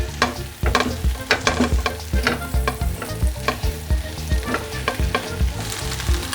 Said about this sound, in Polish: Całość przemieszamy i smażymy to około 2 minutki.